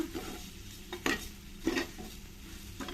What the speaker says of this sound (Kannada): ಹುರಿದಿರೋ ಅಕ್ಕಿ ಹಾಕ್ಕೊಳ್ತಾ ಇದ್ದೀನಿ ಈ ಅಕ್ಕಿನೂ ಅದ್ರ ಜೊತೆ ಒಂದು ಸ್ವಲ್ಪ ಚೆನ್ನಾಗಿ ಮಿಕ್ಸ್ ಮಾಡ್ಕೊಳ್ಳೋಣ